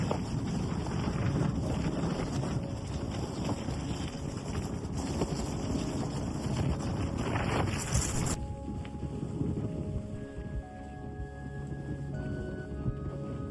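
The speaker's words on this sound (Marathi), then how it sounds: "सोसाट्याचा वारा वाहत होता. कानामध्ये अक्षरशः वाऱ्याचा आवाज सोसो करून वाहत होता." Strong wind roars at a mountain summit at Girnar, a continuous loud rushing buffet across the microphone that drops somewhat after several seconds but keeps blowing steadily.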